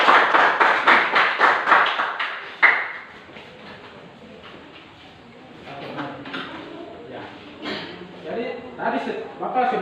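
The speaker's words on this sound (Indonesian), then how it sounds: "Kita berikan aplaus buat mereka" A class gives a group's presentation a round of rhythmic clapping, loud and close, which fades after a few seconds into murmuring voices with scattered claps returning.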